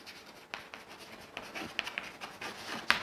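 Chalk or marker scratching across a board during a Class IX geometry lesson, a run of short, scratchy strokes and light taps at an uneven pace, close and fairly quiet, with no voice over it.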